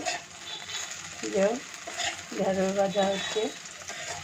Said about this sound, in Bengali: আর এই যে ঢেঁড়স ভাজা হচ্ছে